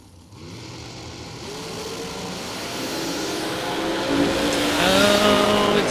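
A drag racing car engine roars loudly at a drag strip, the revving rising steadily and growing louder over several seconds with no voices over it.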